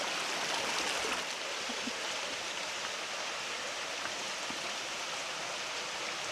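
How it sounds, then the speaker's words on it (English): Creek water rushing at a trail crossing on the Mountains-to-Sea Trail, a steady, dense, close wash of flowing water that holds even and unbroken throughout, with no voices. "we're here at a creek crossing here on the Mountains of Sea Trail"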